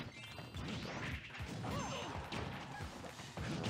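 A down smash attack lands in a Super Smash Bros doubles match: loud crashing and whooshing hit effects sit inside a dense, continuous layer of game sounds.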